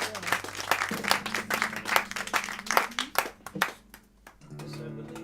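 An audience claps in an independent bookstore during a live music evening, a few seconds of scattered, moderately loud applause that fades out, followed by a held instrument tone.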